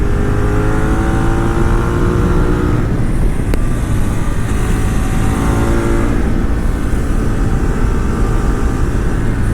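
A Ducati 848 motorcycle engine revs hard and continuously, its loud roar climbing and dropping through the gears with wind rush over it, and no voices.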